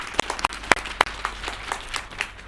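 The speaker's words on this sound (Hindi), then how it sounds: "बहुत सारी तालियां ज़ैनब के लिए।" Scattered, sparse clapping for a child performer at an Independence Day show, a handful of sharp, close individual claps spaced irregularly rather than a full ovation.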